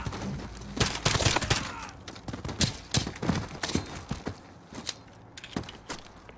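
Gunfire from Call of Duty Modern Warfare during a campaign mission: a string of sharp shots and short bursts, some close and loud, others quicker and lighter, spaced irregularly over a busy background of game ambience.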